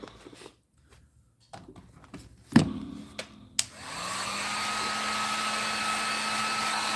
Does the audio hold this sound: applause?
no